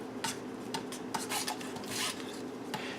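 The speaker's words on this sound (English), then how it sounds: "Before we begin to melt this stick of butter, use it to grease your loaf pan." A stick of butter rubbed against a typical 3x5 loaf pan to grease it, a series of short scraping, rasping strokes in an irregular rhythm, close and fairly quiet, with no talking.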